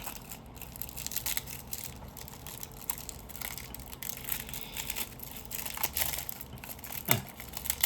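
Crinkling and crushing of a plastic wrapper as a Magic: The Gathering Avatar: The Last Airbender Jumpstart booster pack is torn open. Soft, irregular rustles and crackles sound close by, with no talking.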